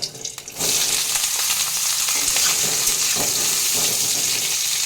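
Pointed gourd (potol) pieces, with a green chilli and nigella seeds, hit hot oil in a pan and set off a loud, steady sizzle after a brief quiet start. The frying continues unbroken, with light stirring scrapes.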